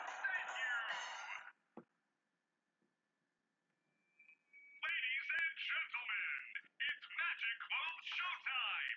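A song plays through a smartphone speaker beside a sound-sensor RGB LED music lamp project, thin and tinny, with a brief burst, a quiet gap, then continuous choppy phrases resuming near the device.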